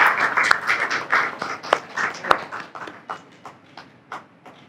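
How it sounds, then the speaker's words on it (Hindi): An audience at a literary evening in Raipur bursts into clapping, starting as a dense patter of hands and thinning out into scattered, fading individual claps. "हम तालियों से इस शाम को और बुलंद कर सकते हैं।"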